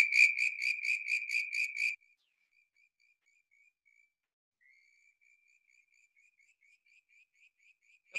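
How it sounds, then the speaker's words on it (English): Frogs calling in Darebin: a southern brown tree frog gives a fast, raspy pulsed trill for about two seconds, then a whistling frog answers with a long run of faint, high, thin whistled notes. "So the whistling is just a bit more high-pitched. Where southern brown's a bit more raspy, a little bit more low-pitched"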